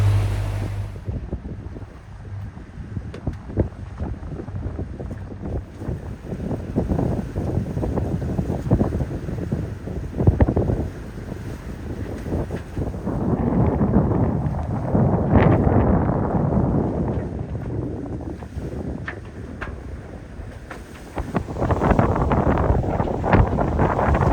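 Boat rocking on moderate sea waves, with water sloshing and slapping against the hull under steady wind buffeting on the microphone, continuous and fairly loud with swells rising and falling.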